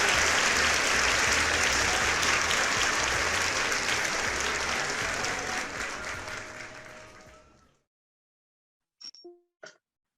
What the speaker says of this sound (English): let's give a welcoming applause to Pastor Mrs. Obi Anike Happiness Ozioma.